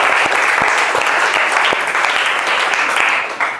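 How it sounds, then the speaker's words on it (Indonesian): A class gives a round of applause for a student named Senja: steady, dense clapping from a roomful of people, loud and close, holding for several seconds before tapering slightly at the end. "tepuk tangan untuk Senja"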